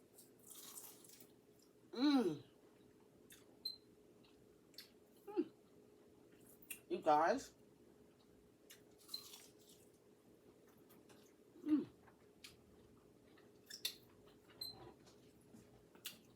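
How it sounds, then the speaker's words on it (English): Crispy honey mustard chicken being chewed, a few crunchy bites scattered between pauses, close and moderately loud, with brief talk. "We'll see if it's got a good crunch."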